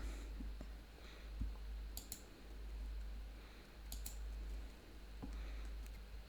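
A few quiet, sparse mouse clicks while connecting a crypto wallet to a network, sharp and brief over a faint low background hum.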